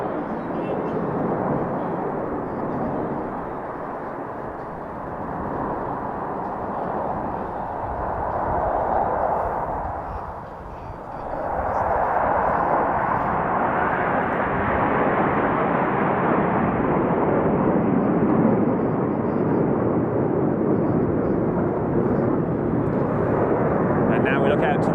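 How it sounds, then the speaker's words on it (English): Black Eagles aerobatic jets perform at the Royal International Air Tattoo 2022, their roar swelling loud, dipping briefly, then surging back into a sustained, rumbling pass under a commentator's voice. "2 aircraft on either side, converging on show centre."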